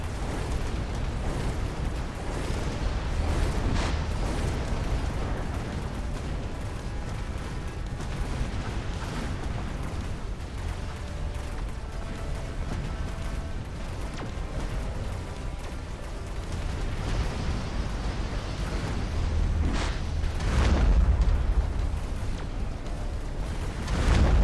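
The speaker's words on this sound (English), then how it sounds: "Look at them all blow all those missiles." Many missiles blowing up in a strategy video game, a steady, dense wash of booming blasts and crackling bursts that swells louder near the end, with no talking.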